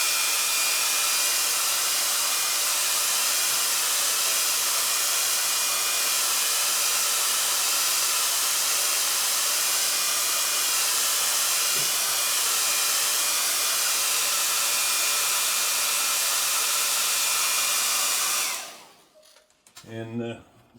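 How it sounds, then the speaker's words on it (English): A hair dryer blows steadily and loudly at close range to dry antique paste on carved leather, a constant rushing hiss that cuts off near the end, leaving a few faint handling sounds. "I'm going to take a hairdryer here and dry this a little bit just to speed things along."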